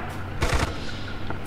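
A short burst of rapid automatic gunfire from a tank firing into woods in a World War 2 video game, loud and close, with a few quick cracks over a dense battle backdrop.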